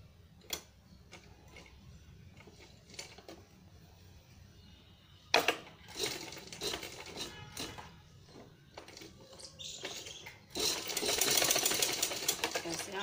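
A sewing machine stitches a blouse lining for a high-neck designer blouse, with short clicking bursts early on and a longer continuous whirring run near the end. A voice speaks between the stitching.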